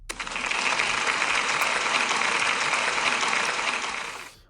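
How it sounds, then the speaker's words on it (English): Sustained round of applause from a school celebration assembly, a steady dense patter of many hands that swells in quickly, holds evenly for several seconds, then tapers off at the end, with no voices over it. "can we give Jack a big round of applause"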